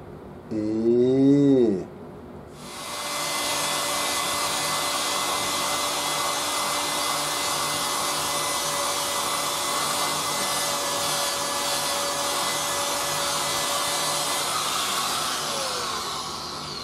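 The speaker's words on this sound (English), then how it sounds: "This buffing pad needs to be replaced, but I'm going to go again" A power buffer with a worn buffing pad polishes the body of a JayDee Supernatural Classic Series I bass guitar. A brief rising tone comes as it starts, then a loud, steady motor whir with friction hiss runs close and unbroken until it winds down at the end.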